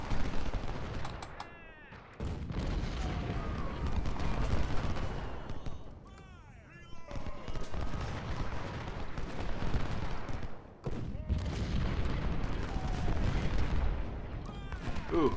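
Rifle volleys and cannon fire from a Civil War battle video game at Crampton's Gap, heard as dense, continuous crackling gunfire in three long bursts split by short pauses, with someone talking over it.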